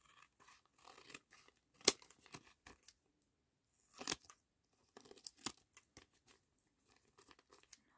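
Sharp scissor snips and crinkling as a paper specimen card is trimmed, a handful of quiet, irregular cuts with short pauses between them.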